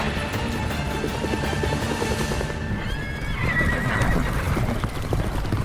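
A horse whinnies with a long, high, wavering call in northern New South Wales horse country, while a steady mechanical rumble of a rescue aircraft drones underneath.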